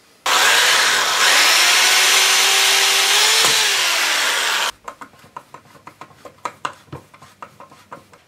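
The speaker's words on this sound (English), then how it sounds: "position that part, drill a couple of holes" A power drill whines loudly and steadily for several seconds, its pitch shifting as it bites into material, then stops and scattered clattering follows.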